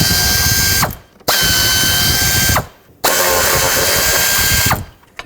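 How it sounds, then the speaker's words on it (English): A ratchet wrench loosens 10mm bolts on an intake bracket of a 1997–2003 Ford F-150 5.4L engine. It gives loud, close, rapid clicking in three bursts with short pauses between, and no one talks. "now I'm just going to unbolt this whole bracket off of the intake"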